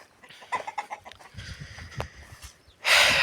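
A rooster with a lame leg makes several soft clucks nearby in a cold farmyard coop, ending in a sudden loud rustling burst.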